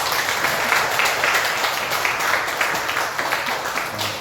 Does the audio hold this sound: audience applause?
yes